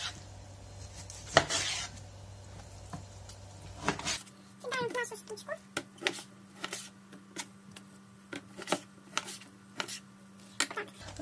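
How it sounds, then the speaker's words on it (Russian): A knife cuts pork into pieces on a board at home, giving a string of crisp, irregular chops and knocks that come close by, with quiet talk heard between the strokes. "То же самое я делаю со свининкой. Режу ее на кусочки."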